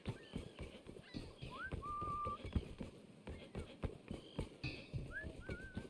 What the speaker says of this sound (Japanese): ゴム長靴。 面白い音がする。